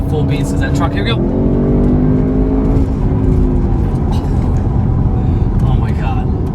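2021 Audi RS6 Avant in RS mode accelerating hard on the road, loud engine surging through rising pitch sweeps and gear changes, heard from inside the cabin with wind and road roar.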